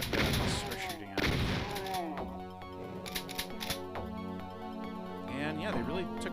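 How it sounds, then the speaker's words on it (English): Enemy shotguns fire in the Doom video game, several sharp blasts over game music, with someone talking throughout. "Bald men with shotguns are shooting at me."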